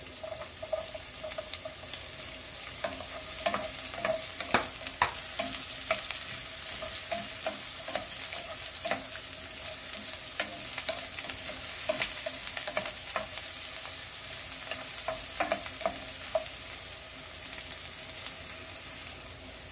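Sliced onion fries in olive oil in a pan with a continuous sizzle, punctuated by frequent light clicks and taps of stirring throughout, with no voices.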